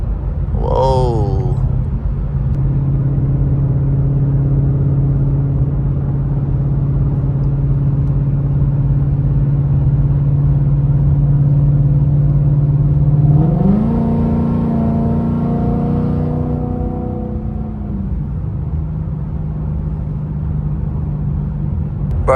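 A right-hand-drive Nissan R34 Skyline moves through traffic: a loud, steady engine drone with a rising rev partway through, followed by a settling hum, heard up close and without talk.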